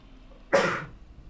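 A single short, sharp sneeze bursts out close by against a quiet background.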